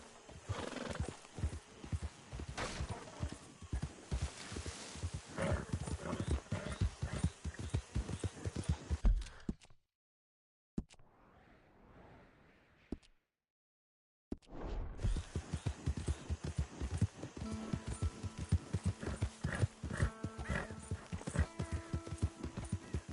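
A horse in the video game Red Dead Redemption 2 walks with steady, close clip-clopping hooves, broken by a brief near-silent pause before the rhythmic hoofbeats resume.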